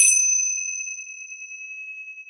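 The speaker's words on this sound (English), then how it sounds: "This is just one set of Tibetan bells." A single bright strike on Tibetan bells rings out clearly and then sustains as a pure, steady tone that slowly fades, with nothing else around it.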